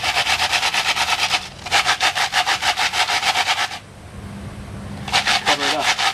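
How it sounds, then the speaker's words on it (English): An asphalt shingle scrubbed back and forth across a roof to work in roofing cement or tar, making loud, rhythmic, gritty rasping strokes in two long bursts, a brief pause, then a shorter burst. "You can take a shingle, rub it back and forth"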